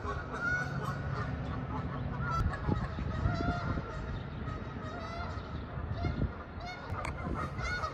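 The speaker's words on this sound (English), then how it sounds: "that's a Canada goose" Canada goose honking outdoors, repeated loud nasal honks close by over a busy background with overlapping calls.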